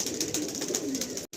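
Nasal Giribaj pigeons coo steadily inside a loft, a continuous layered murmur of soft low calls from several birds close by, ending with a brief silent break.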